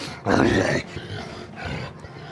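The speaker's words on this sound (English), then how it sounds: "You see as it turns and growls at you," A wounded monster in a video game growls as it turns, a loud, rough roar lasting about half a second, followed by quieter rumbling breaths.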